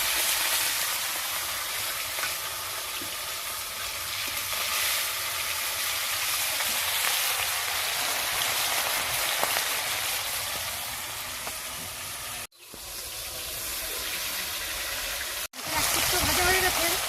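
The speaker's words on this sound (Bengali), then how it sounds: "এবার আমি এক এক করে মাছগুলো লাল লাল করে ভেজে নেবো।" Pieces of katla fish fry in mustard oil with a little turmeric, a loud, close, continuous sizzle that is cut briefly twice near the end.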